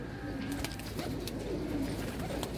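A kept pigeon coos softly and repeatedly in low, rolling notes amid a busy background of other birds and steady noise.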